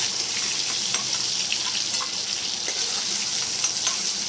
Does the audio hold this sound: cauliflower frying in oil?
yes